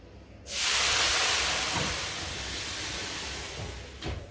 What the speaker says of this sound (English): I'm going to pull out that tray and pop our water into it. It's going to steam up quite a lot